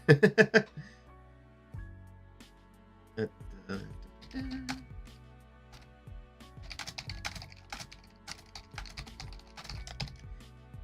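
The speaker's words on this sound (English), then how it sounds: "I still type it away where it still gets picked up by all the microphone shit" A loud typist works on a computer keyboard, close by: a quick run of sharp keystrokes opens, then irregular bursts of rapid clacking follow.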